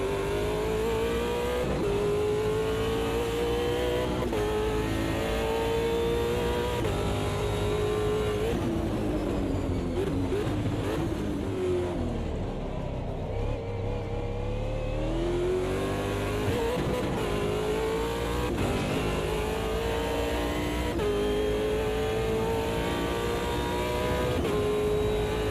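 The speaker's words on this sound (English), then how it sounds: "Did you hear the engine change under the bridge?" A race car engine in a sim racing game drones and revs continuously, its pitch rising and falling through gear changes, loud and close with a brief dip in tone partway through.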